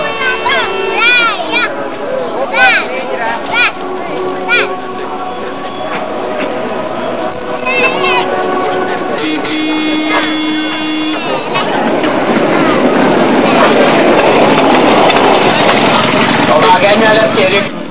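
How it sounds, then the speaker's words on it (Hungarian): A public-address voice with chime tones plays, then a narrow-gauge railway train at the Kemence Forest Railway in Hungary rumbles and squeals loudly as it pulls away, close by. "Figyelem, a vonat azonnal indul."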